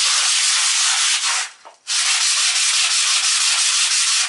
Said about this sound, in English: As you can see, there's kind of a scratching.